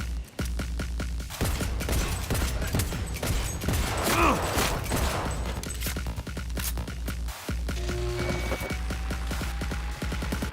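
Rapid gunfire in Cyberpunk 2077 Phantom Liberty, dense bursts of shots with booms and mechanical clanks running continuously at high volume.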